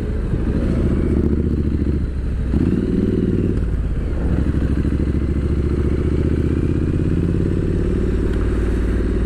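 A Triumph Street Scrambler 900 rides through narrow, busy town streets, its engine a loud continuous close rumble that rises and falls with throttle changes, with some clatter and road noise around it.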